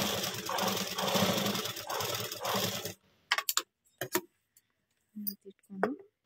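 A sewing machine stitches the front of a square-neck blouse, running steadily and close for about three seconds, then stopping, followed by scattered clicks and handling of the fabric and machine.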